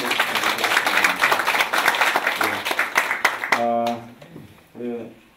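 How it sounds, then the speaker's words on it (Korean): A crowd claps in a burst of dense applause for several seconds, fading out as a voice begins speaking. "오셨습니다. 큰 박수."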